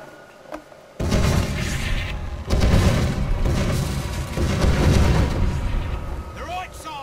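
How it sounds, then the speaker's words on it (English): Ship cannons in Age of Pirates 2 fire at point blank, heavy booming blasts that roll into a sustained thunderous rumble of broadsides and crashing impacts, loud and close, continuing for several seconds. "We're shooting at each other point blank."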